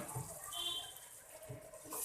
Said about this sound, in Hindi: अब हल्का सा लगाऊंगी इसको पानी का छींटा, ताकि ड्राई मसालों के फ्लेवर इन्हेंस हो जाए